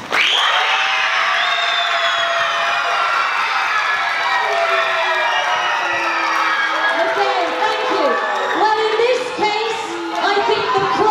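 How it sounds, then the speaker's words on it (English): At a school debate between Year 9 students and teachers, the audience cheers loudly for the opposing team. Excited voices whoop and shout together in a sustained, close wall of noise that lasts the full eleven seconds, with clapping hard to pick out. "Now I'd like a round of applause for the team that opposed the motion"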